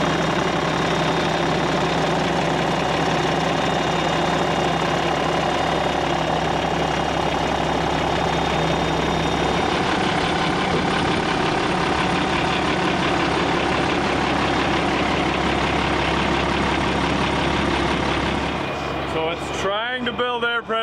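A Navistar DT466 7.6-litre diesel in an air-brake truck idles steadily and loudly, with a knocking engine rumble running throughout and a brief clattering disturbance near the end.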